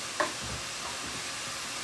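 A meat filling for stuffed capsicum frying in a pan, a short, even hiss of sizzling with one faint clink of a utensil near the start.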